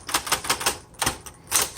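Keys struck on a 1960s Smith Corona Coronet Automatic typewriter, a quick series of sharp, close clacks in an uneven rhythm, about ten strikes with short gaps, no voices.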